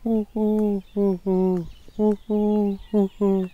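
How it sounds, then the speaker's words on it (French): A common wood pigeon coos nearby and fairly loud, in repeated paired phrases of a short note followed by a longer, drawn-out one, spaced by brief pauses. "Ah, il y a un pigeon ramier qui chante, je sais pas si tu entends."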